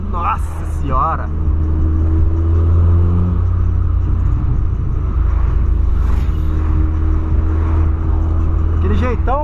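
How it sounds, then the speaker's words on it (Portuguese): A tuned 2008 VW Polo sedan with a straight-pipe exhaust roars loudly and steadily through a late-night drive, its deep drone constant, while people talk over it. "o Polão tá com escape direto, chamando daquele jeito, berrando pra todo lado."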